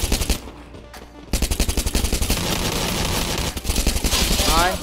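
Rapid automatic gunfire rattles loudly in a competitive online shooter match, bursts of close machine-gun fire with a brief pause before a long sustained volley, with faint player chatter underneath.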